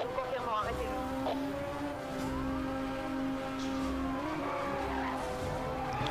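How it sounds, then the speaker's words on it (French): Car drifting hard in Need for Speed Hot Pursuit Remastered, tires squealing in long sustained whines over a steady engine roar, with a pursuing police car close behind. "un petit drift assez stylé où je passe entre deux bagnoles vite fait"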